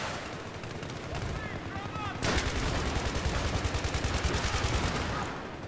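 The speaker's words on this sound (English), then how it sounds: "Something's firing at me." Rapid automatic gunfire in the video game Battlefield 3, sparse shots first, then a loud, sustained burst of evenly spaced rounds lasting several seconds.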